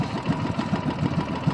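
A small engine machine runs at a steady idle, a close, low pulsing chug with a regular beat and no talking over it.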